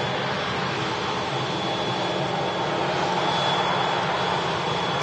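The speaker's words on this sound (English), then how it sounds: "Here we go, Jet 275 on the roll." Jet2 Boeing 757 airliner beginning its takeoff roll at Manchester Airport, a loud continuous jet engine roar holding steady with a faint whine on top, heard from a distance without talk.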